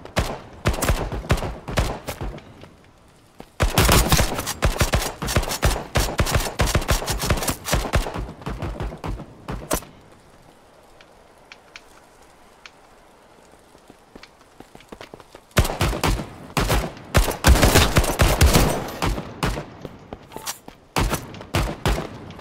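Bursts of video-game gunfire from Passed Out - Prologue, dense rapid volleys of shots loud and close, with a quieter lull in the middle before the firing resumes.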